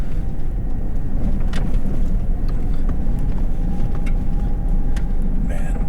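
A 2019 Lexus LX570 SUV drives along a road, its steady low engine and road rumble filling the cabin continuously and loudly, with a faint voice underneath.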